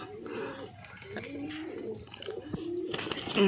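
Kalshira pigeons coo softly in low, throaty rolls close by, with faint background noise and a few scattered rustles.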